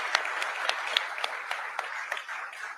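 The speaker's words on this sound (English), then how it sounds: "Please give them a big round of applause." An audience applauds at a Washington Commanders domed stadium deal announcement, steady clapping from many hands with a few sharper individual claps standing out, fading slightly toward the end.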